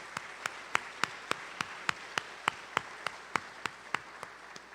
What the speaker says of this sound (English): So I'd like to have another round of applause for all those that work in the clinic